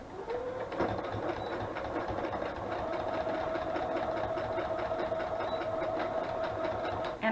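Sewing machine stitching paperclip embellishments for junk journals, a steady fast mechanical whir with a faint tonal hum, close and continuous, with no one talking.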